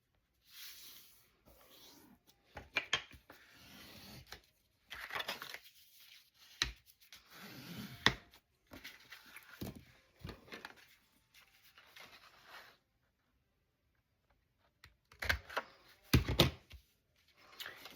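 Sheets of 12x12 paper and book pages rustle, slide and crease in short bursts separated by quiet gaps as a junk journal pocket is folded, with soft scraping and crinkles close by.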